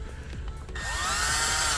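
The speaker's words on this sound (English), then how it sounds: "use a metal brush on a drill or any other tool that you can use this metal brush" A power drill fitted with a metal wire brush spins up and scrubs an old gasket surface on a 2012 Mercedes E350 3.5L thermostat housing, rising into a loud, steady whine after a brief quieter start.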